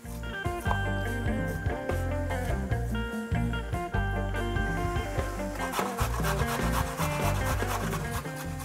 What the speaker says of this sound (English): I love grating uh, vegetables for salads because you create kind of very thinly grated vegetables